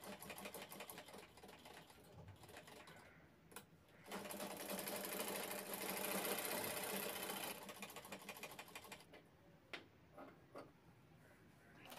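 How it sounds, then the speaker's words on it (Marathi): A sewing machine stitches the sides of a bag, a rapid mechanical ticking and whirring that runs softly, swells into a louder, denser burst for a few seconds in the middle, then eases back with scattered clicks. "त्यानंतर दोन्ही साईड शिवून घ्यायच्या आहेत बाजूच्या."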